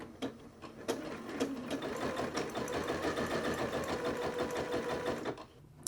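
Sewing machine stitching a stretchy thumbhole cuff onto a sleeve opening, a close, steady rapid needle chatter that runs for several seconds before slowing and stopping near the end, with a few louder clicks at the start.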